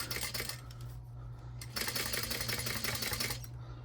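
A sewing machine top stitches a fabric wallet at an eighth of an inch, a steady rapid mechanical patter with a brief pause near the middle before the needle runs on continuously.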